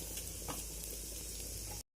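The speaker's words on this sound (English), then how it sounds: "Till then you need to stir fry, and the urad dal should change the color to a golden brown." Urad dal stir-fries in a pan with a constant close sizzle, broken by a few sharper scraping and stirring accents, before the sound cuts off abruptly at the end.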